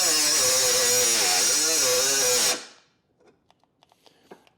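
A Milwaukee cutoff wheel cuts into the lower air dam of a 2024 Jeep Wrangler 4xe, a loud, close, steady high whine for about two and a half seconds that spins down and stops, followed by a few faint clicks.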